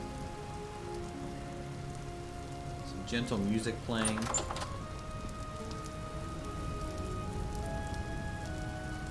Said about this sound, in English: The subtle sound of a windmill in the rain by a nice warm forge.